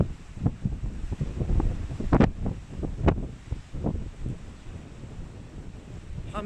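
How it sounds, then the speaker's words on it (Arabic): Strong gusts buffet a microphone during an outdoor livestream at Djurgården in Stockholm, a loud rumbling roar with sharp bursts and peaks that rises and falls unevenly throughout, no speech. "هاي الهواء طيرنا، ما بعرف الهواء واصلكو، هواء قوي جدا"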